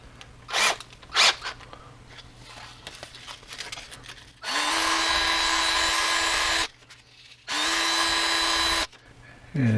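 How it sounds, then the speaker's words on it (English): A power drill spins a stainless steel rod in two loud, steady bursts of about two seconds each, separated by quieter handling noises and a couple of short scraping sounds at the start. "Chuck each one of them up into the drill."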